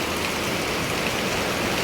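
Heavy typhoon rain pours steadily and loudly, a dense unbroken hiss close by with no voices.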